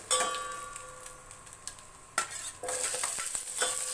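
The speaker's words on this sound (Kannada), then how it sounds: "ಇವಾಗ ಇದಕ್ಕೆ ಕರಿಬೇವಿನ ಸೊಪ್ಪು ಮತ್ತು ಒಣಮೆಣ್ಸಿನ್ಕಾಯಿ ಒಗ್ಗರಣೆಗೆ ಹಾಕೋತಾ ಇದ್ದೀನಿ" Curry leaves and dried red chillies crackle and sizzle in hot oil, a close bright hiss that flares louder partway through, with light clicks and stirring.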